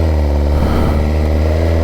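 A 1000cc motorcycle engine running at very light throttle, a loud, close, steady low droning hum with an even mechanical pulse throughout.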